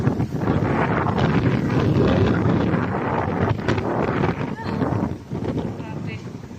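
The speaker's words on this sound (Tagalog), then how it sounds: "Literal na mahangin dito sa labas." Strong wind at the seashore at Pucio Point, Antique, roars and buffets the microphone continuously, a loud broadband rush with gusty swells and a few dips.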